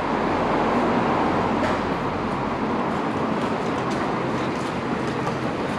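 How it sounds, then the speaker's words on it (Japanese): A Tobu Skytree Line train moving through Umejima Station, a loud, continuous rumbling roar with steady wheel noise and faint rattles throughout, close by and alone. "この東武スカイツリーラインは、各駅しか止まらないかな、この梅島駅には。"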